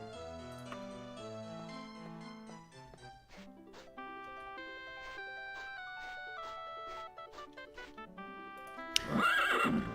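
A horse in The Elder Scrolls: Daggerfall video game whinnies loudly and clip-clops with its hooves over a melodic game soundtrack, and a sharper burst comes near the end.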